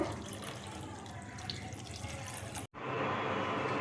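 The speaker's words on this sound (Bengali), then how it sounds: "জল দিয়ে দিচ্ছি দেখো" Water pours into a pot of masoor dal being cooked for egg masoor dal, a steady splashing fill running for several seconds, a brief break, then continuing at similar loudness.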